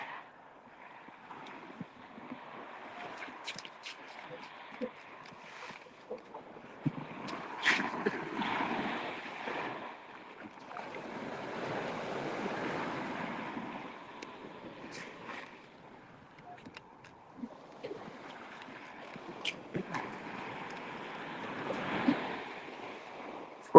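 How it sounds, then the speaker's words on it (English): Winter ocean waves break on a beach in repeated surging washes that swell and recede every few seconds, with wind noise and no talking. "we start getting hit with waves"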